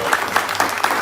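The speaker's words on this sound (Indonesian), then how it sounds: "Tepuk tangan Bapak Ibu." A seminar audience claps together in a brief burst of applause, the crowded clapping steady and fairly close for about a second.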